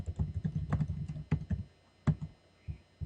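Fingers tap on a computer keyboard in quick irregular bursts of soft clicks, near and fairly quiet, with short pauses between the bursts while an item is typed into a resume document.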